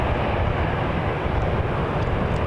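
An Air Canada Airbus A320 airliner at Toronto Pearson Airport gives off a steady, broad engine roar that holds at an even loudness throughout, with no talk over it.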